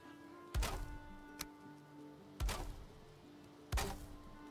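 Wooden beams are placed while building in Valheim: three heavy, close wooden thunks land about a second apart, with a faint tick between the first two, over quiet game ambience and no talk.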